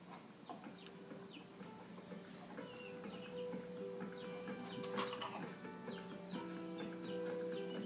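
A flock of wild turkeys gobbles and clucks continuously through a faint, slightly tinny background of television playback, with overlapping calls and no talking.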